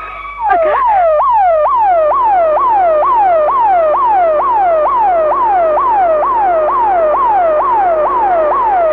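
Wailing ambulance siren in a Telugu film scene, a steady rising-and-falling electronic tone cycling about twice a second, loud and close, running continuously without speech.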